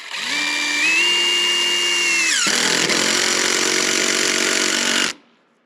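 Power drill driving screws into a wooden truss of a post-frame woodshop, a steady loud whirring motor that rises in pitch, then shifts to a rougher grinding tone midway before stopping abruptly.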